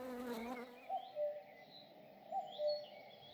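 Soft insect buzzing from bees and bumblebees hovering nearby, with faint chirping birds in the background; quiet and outdoor-sounding, no voices.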